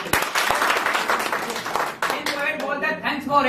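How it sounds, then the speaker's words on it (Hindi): An audience at a marketing business meeting in Balotra, Rajasthan bursts into brief, dense clapping close by, then it fades as a voice speaks. "ताली बजाओ आप लोगों को।"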